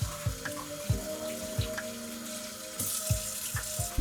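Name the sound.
washing dishes by hand under running hot tap water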